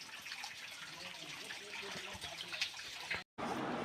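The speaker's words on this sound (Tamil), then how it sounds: "தண்ணி அங்கே மேலேருந்து தண்ணி வந்துட்டு இருக்குது பாருங்கள்" Water trickles and splashes down from the rock inside a hillside cave, a steady close wash of running water heard throughout, with a brief dropout near the end.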